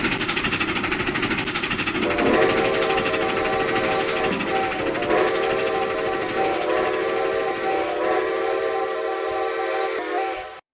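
A steady, loud rumble of a moving steam train, No. 90 of the Strasburg Railroad in a video game, with a sustained whistle tone layered over it, continuing without pause and fading at the end.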